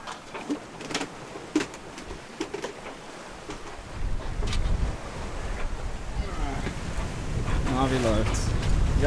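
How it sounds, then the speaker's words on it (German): Wind gusts at sea aboard a sailing yacht on an ocean crossing, soft at first, then rising into a steady, louder rush with water noise beneath, and a voice speaking faintly toward the end. "der Wind hat jetzt ein bisschen nachgelassen"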